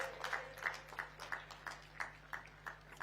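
An audience claps at a Bastar Olympics closing ceremony to welcome Amit Shah. The clapping is faint and distant, falling into a steady rhythmic beat of about three claps per second.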